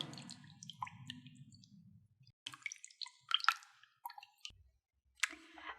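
Wet sloshing and soft drips of jelly being stirred into water in a bowl, with light clicks of a utensil in short bursts and pauses.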